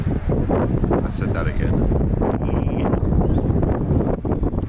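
Strong wind buffets the microphone in loud, continuous rumbling gusts while a person speaks briefly underneath.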